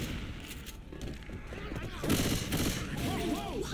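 Rapid gunfire rattles in Left 4 Dead 2 and grows louder halfway through, with a voice talking over the shots.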